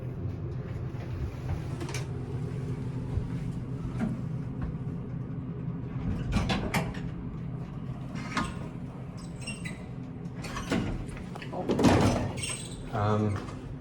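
An original door mechanism on a Westinghouse traction elevator clatters and rumbles through several sliding and latching knocks, with people talking nearby.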